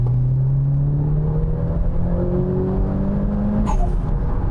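A Mitsubishi Evo 9 GT engine pulls hard under acceleration, its loud, steady tone rising gradually in pitch from inside the car, with a brief shift or clunk near the end and no talking.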